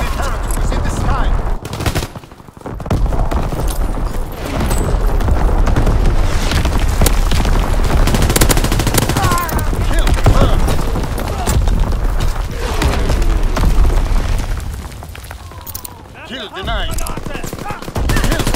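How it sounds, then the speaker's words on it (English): Mortar rounds land in rapid succession in Call of Duty WWII, booming explosions blending with dense machine-gun fire and gunshots in a loud, continuous battlefield din. "Sending mortar rounds, zone and sweep."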